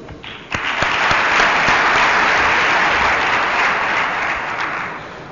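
Audience applause at a digital convergence launch ceremony in Djibouti erupts after a brief quiet moment, then continues as dense, even clapping that slowly tapers toward the end.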